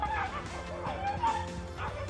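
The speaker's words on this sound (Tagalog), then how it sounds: "Maririnig din ang sabay na pagtakol ng iba pang aso." Several dogs bark and yip together at night in a CCTV recording, a continuous overlapping chorus at a moderate distance over a steady low hum.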